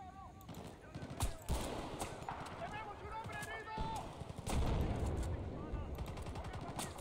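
Rapid bursts of automatic gunfire and single shots in Battlefield: Bad Company 2, a military shooter, loud and dense with sharp cracks, while someone talks over the firefight.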